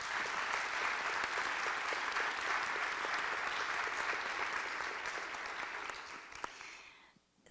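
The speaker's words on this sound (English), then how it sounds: "let's just take a moment to applaud the BMA" An audience claps steadily at a panel discussion for about six seconds, a dense, even wash of hands that thins out and stops near the end.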